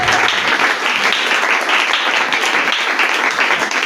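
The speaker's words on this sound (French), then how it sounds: "Acclame encore très fort Jésus-Christ et on va commencer." A church congregation applauds and cheers loudly and continuously during a celebration service, dense clapping mixed with crowd shouts filling the room without pause.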